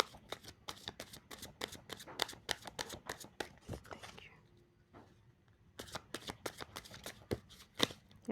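Playing cards shuffled for a tarot-style reading, a quiet close run of crisp riffling snaps, a brief pause near the middle, then the rapid flicking resumes.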